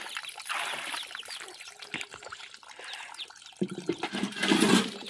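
Water splashes and trickles steadily from a running tap into a gutter, a continuous watery rush that swells louder toward the end, with no talking.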